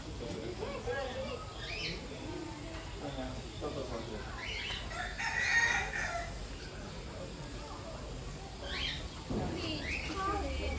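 Birds call at Zoo Negara, Kuala Lumpur, with short rooster-like crows and clucks rising repeatedly over a busy midday background of people talking nearby.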